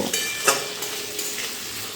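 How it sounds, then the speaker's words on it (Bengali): Steady sizzling of chopped onion and tomato frying in a pan, with a few scrapes and clinks of stirring, no voices. "এবারে পেঁয়াজের সঙ্গে এই টমেটো আবারও একটু ভালো করে ভেজে নেব"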